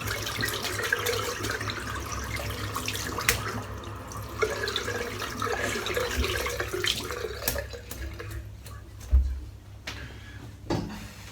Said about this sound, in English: Can give the brush a good clean out again.